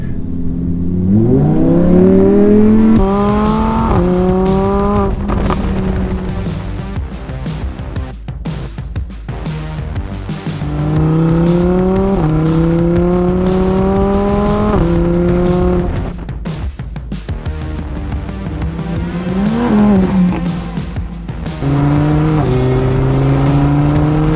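A Lamborghini Huracan EVO engine revs up repeatedly in sport mode, pitch climbing and falling in several loud surges with brief gaps between throttle blips.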